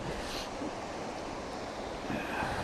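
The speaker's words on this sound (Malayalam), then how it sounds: "നല്ല ഭംഗിയുള്ളൊരു ചെറിയൊരു വെള്ളച്ചാട്ടമാണ്." A small waterfall in a forest rushes in a steady, broadband wash of falling water, constant and fairly soft with no voices over it.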